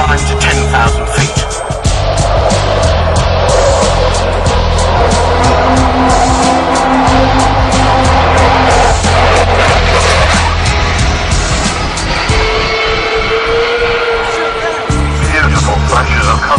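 A historical aircraft makes a high-speed fly pass at the Royal International Air Tattoo 2006 air show: a loud, sustained roar with a deep droning rumble that holds for the whole stretch, with a voice faintly underneath.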